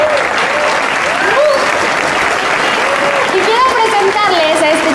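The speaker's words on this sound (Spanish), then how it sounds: "¡Dale un aplauso!" Party guests applaud at a Sweet 16 celebration, a steady, dense wash of clapping lasting several seconds, with a singer's sustained voice rising and falling over the cheering crowd.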